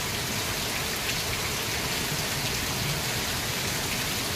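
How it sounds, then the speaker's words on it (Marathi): Heavy rain pours down in a steady, dense hiss that stays even from start to finish, with no voices. "जबरदस्त पाऊस पडतोय."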